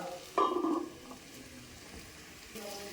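Bitter gourd curry ingredients and onions fry in oil in a pan, giving a soft, steady sizzle with a short loud burst of stirring near the start.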